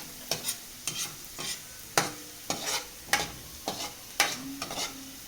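Onions being stirred in a sizzling pan, with regular scraping strokes about every half second over a soft, continuous frying hiss, close and fairly quiet, with no talking.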